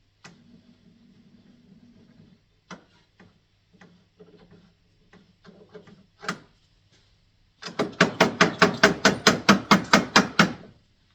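Sash clamps are wound tight on oak planks, giving a few scattered creaks and knocks, then a fast run of loud, evenly spaced ratcheting clicks up close.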